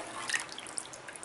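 Water is poured into a pot of Tamil paruppu urundai kulambu (lentil dumpling curry), heard as a brief, soft run of splashing and dripping, close by and fairly quiet, with no talk over it.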